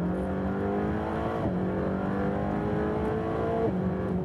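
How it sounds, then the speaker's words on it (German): A Mercedes-AMG GT engine revs hard and climbs in pitch, dropping briefly at each gear shift before screaming upward again, loud and close. "oben raus schreit er nochmal richtig. Der beißt, der Motor."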